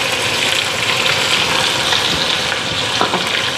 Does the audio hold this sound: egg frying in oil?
yes